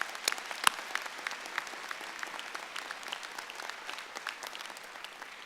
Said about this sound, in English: Let's give them all a big round of applause this morning.